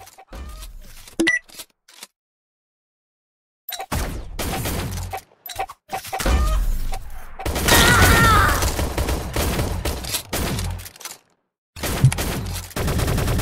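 Rapid bursts of gunfire from the viper weapon in the online egg-shooter game Shell Shockers, loud and clustered in several volleys separated by brief silences, with no talking.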